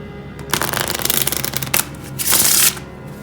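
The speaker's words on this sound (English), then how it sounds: "Give the cards a few shuffles." A deck of playing cards shuffled up close for a card trick, giving loud, dense riffling bursts with a brief pause between them and no talking.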